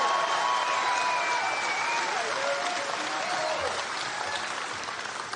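Crowd at a political rally in Waukesha clapping and cheering, a dense wash of applause that stays loud throughout and eases slightly toward the end.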